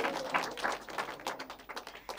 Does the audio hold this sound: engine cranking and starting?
no